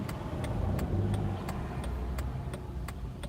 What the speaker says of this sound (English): I feel like every car in Dinwiddie County is just loud.